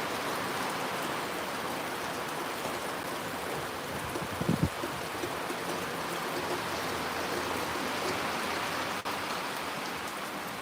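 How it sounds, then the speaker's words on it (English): Heavy rain pours down steadily at an outdoor softball game in Pohnpei, a dense continuous hiss of drops on surfaces with a brief knock partway through. "It's raining, it's heavy. Heavy rain."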